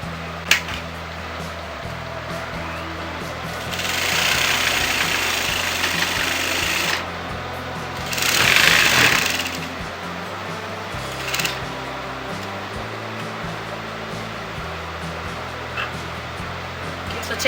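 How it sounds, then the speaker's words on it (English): A sewing machine stitches a katori blouse lining to its fabric in two loud whirring runs, the second shorter, over a steady background hum, with a voice speaking briefly and a dog barking. "So now I'm going to sew this together"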